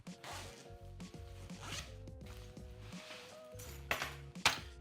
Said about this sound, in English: you unclip the feed locks and you pull the zipper all the way down.